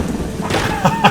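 Rain hiss with faint rumbling thunder in the fantasy game Eschalon: Book III, a steady wash with a couple of brief swells, short and fairly close.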